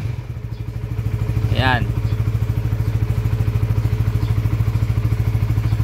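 A motorcycle engine idles steadily close by with a fast, even chugging pulse and loud low rumble, while someone speaks briefly over it.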